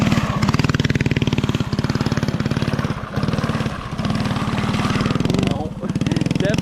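A mini drift quad's small engine revs hard, loud and close, with a rapid buzzing pulse that dips briefly between throttle pulls; a voice talks over it.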